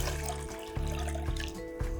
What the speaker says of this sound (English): I also have some vegetable stock. All right, just gonna pour this in there.